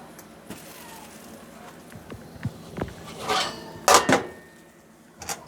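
Metal cooking pans knocking against the top of a kitchen stove while zucchini boats are taken out, a few sharp clanks and clatters near the end after quieter scattered taps, with no talk.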